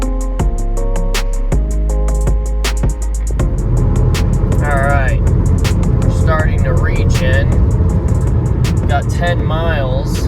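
A Chevy Volt climbs a hill with a steady, close in-cabin hum of road and motor noise. Music plays at the start, and a person talks over the driving sound.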